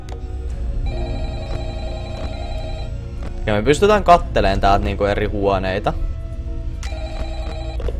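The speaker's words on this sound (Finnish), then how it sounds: "mun puhelin soi nyt" A telephone rings in the horror video game Five Nights at Freddy's, loud repeated ring bursts at the start and again near the end, with someone talking between them.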